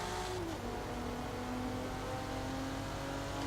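A Mitsubishi car engine in Forza Horizon 4 hums and whirs at a steady pitch, with a brief rising rev near the start, then settling into a sustained drone.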